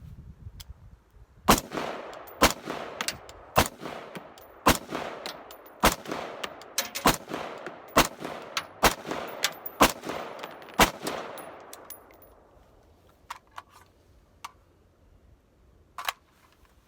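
A gun fires with a new magazine, a series of about fifteen sharp, loud shots at uneven intervals, each with a brief ringing tail, then a quieter stretch with a couple of final isolated shots.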